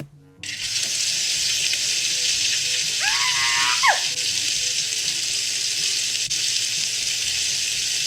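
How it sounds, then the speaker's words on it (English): A pizza deep-frying in hot oil gives a constant, loud, close hiss that runs almost the whole time, with a short squeaky whine partway through. "She's gonna deep fry it."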